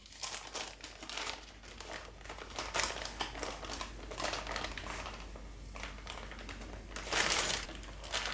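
Parchment paper crinkles and rustles steadily while a sponge cake is rolled up inside it, the dry crackling bursts close and fairly quiet, with louder crinkles near the start and end.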